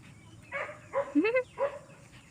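A few short, sharp dog barks or yips, close by, spaced irregularly with brief pauses between them.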